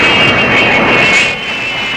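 A British National Airways airliner arriving at an airport, a steady loud jet engine roar with a high whine that eases slightly toward the end, no voices over it.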